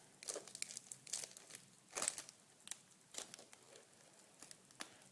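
Scissors cut through a plastic book cover sleeve, giving quiet, close crinkling and snipping with irregular crackly bursts and a few sharper snips, soft throughout and without speech.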